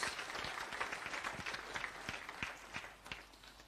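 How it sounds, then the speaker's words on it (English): Faint, distant round of applause at a national prayer day gathering, a thin scattered patter of clapping with a few distinct individual claps, heard quietly and from afar. "a final round of applause"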